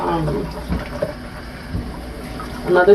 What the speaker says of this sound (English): I hope you can hear me with the water running